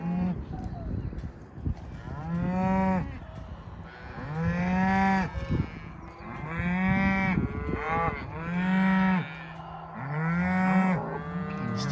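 Cattle moo again and again in a farm field, long harmonic calls overlapping from several cows in a moving group, loud and close with brief gaps between calls.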